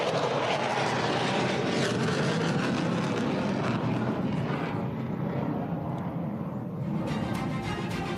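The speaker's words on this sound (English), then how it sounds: "Another takeoff. F-16 from the United Arab Emirates." Loud, steady roar of a United Arab Emirates F-16 fighter jet on its takeoff run at an air force anniversary air show, a dense broadband rumble holding throughout without easing.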